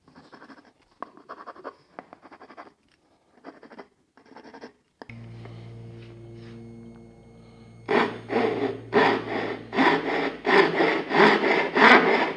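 Hand saw cutting wood for a dovetail joint. A few quiet rasping strokes come first, then a low hum sets in, followed by a run of loud, rhythmic back-and-forth saw strokes close by.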